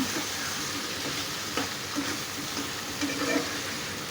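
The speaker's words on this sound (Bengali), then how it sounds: "তো আমি প্রথমে আলুগুলা তেল আর মশলার সাথে ভাজি করে নিব" Potatoes frying in oil with spices in a pan for an eggplant and potato dried-fish curry, giving a steady close sizzle throughout with a few soft stirring knocks.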